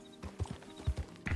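Horse hooves clip-clop in Red Dead Redemption 2, a run of uneven, moderately loud thuds against soft ambient game noise, with no talk.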